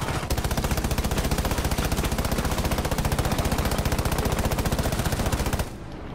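Rapid automatic gunfire in a video game, a dense, steady stream of loud, close shots running for over five seconds before cutting off abruptly.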